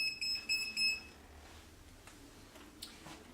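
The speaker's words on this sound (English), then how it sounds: "Flashing red, beeping, indicates the power is on." A voltage tester held to a live outlet wire gives a few quick, faint high beeps in a short rhythmic burst, then falls silent into quiet room noise.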